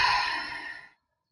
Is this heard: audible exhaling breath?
yes